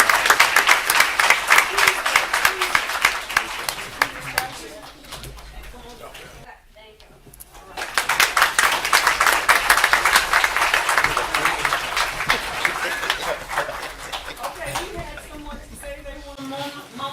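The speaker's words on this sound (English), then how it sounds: "One more round of applause for our 2026 Fall Youth City University." A crowd applauds at a city council meeting in a sustained burst, dips into a brief lull, then claps again loudly and steadily before fading near the end.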